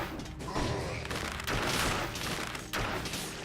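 An oil grenade explodes in the video game Dead Cells amid a fusillade of combat, with repeated bursts and crashes in a dense, fairly quiet stretch of game noise.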